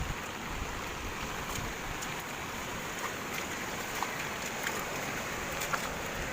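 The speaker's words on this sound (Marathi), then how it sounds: "हा पुरा नाला एकदम फुल ओव्हरफ्लो होऊन चाललेला आहे." Water from an overflowing drain rushes across a flooded road in Kargil Nagar, Virar, during monsoon rain, a steady unbroken wash of flowing water heard from a short distance.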